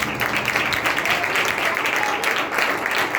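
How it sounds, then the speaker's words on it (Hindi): A church congregation claps loudly together in dense, sustained applause filling the hall, with faint voices mixed in. "जोरदार ताली बजाएं।"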